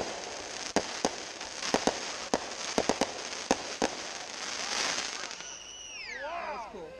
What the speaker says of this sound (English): Hit one of your small mortars.